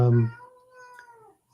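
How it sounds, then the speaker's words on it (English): A cat meows once, a clear drawn-out cry that fades over about a second, close by and alone without talk. "I hear the cat."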